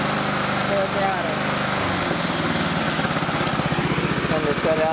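Lawn mower engine revving up to full throttle, the steady idle putter rising around the two-second mark into a faster, harsher, louder drone heard up close.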